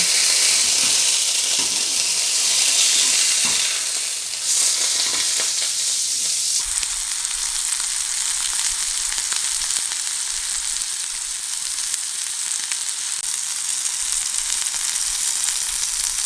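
A Mediterranean olive beef burger sizzles loudly and steadily in a pan just after being flipped, a constant bright frying hiss with no talk.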